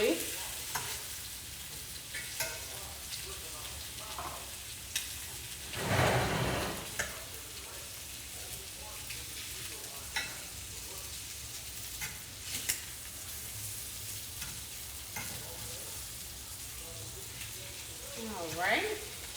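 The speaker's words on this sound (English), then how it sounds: "we're going to flip over the sausage so that both sides cook pretty evenly." Smoked sausage with peppers and onions frying in a pan, with a continuous sizzle broken by scattered clicks and scrapes and one louder burst of spattering as pieces are turned.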